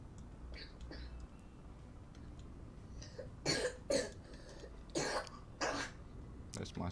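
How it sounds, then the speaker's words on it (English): A young boy coughs several times in the background, a cluster of harsh, throaty bursts spaced a second or so apart, with quieter murmuring and low room noise between them. "That's my son coughing."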